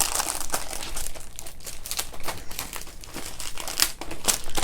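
Crinkly plastic packaging around a set of craft cutting dies rustles and crackles close up as it is opened, in irregular crisp bursts.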